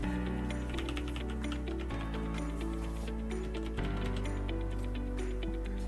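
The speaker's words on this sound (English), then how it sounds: "this is actually a preview of how the keyboard sounds." Typing on a Logitech G413 Carbon mechanical keyboard with Romer-G switches gives a quick, continuous patter of light keystroke clicks at moderate loudness over a steady tonal background hum.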